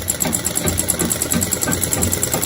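Sewing machine stitching fabric in a tailoring lesson, a fast steady mechanical chatter with a constant hum, close and unbroken, with no voices.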